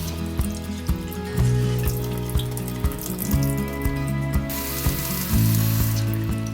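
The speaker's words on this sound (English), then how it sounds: "Then run the beans under water to do a quick wash." Tap water runs steadily into a bowl as dried soybeans are rinsed, with rhythmic clicking and rattling knocks repeating throughout, close and moderately loud.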